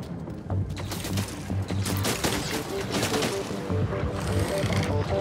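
Gunfire in the video game Crysis 3, with a busy spread of shots and impacts over a low droning background, mostly mid-loud and continuous, while someone talks over it.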